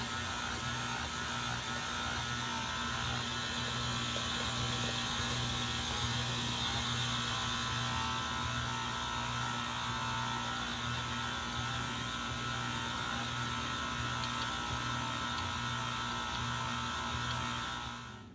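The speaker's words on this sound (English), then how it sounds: "Always start the mixer on a low speed, or else the flour is going to go everywhere." An electric stand mixer runs steadily on low speed while mixing flour, giving a constant mechanical whir with a low hum throughout, fairly quiet and alone with no talk, stopping at the end.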